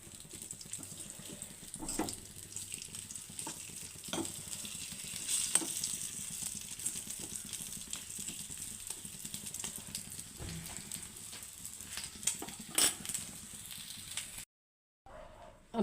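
Dry scabbardfish frying in a pan, a steady hiss of sizzling oil with occasional crackles and pops, close and continuous, cutting off near the end.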